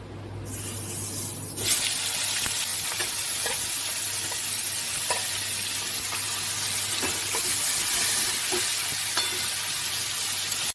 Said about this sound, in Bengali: এবার সেদ্ধ করে নিয়েছি, আমি এবার ছাঁকা তেলে ভেজে নেব।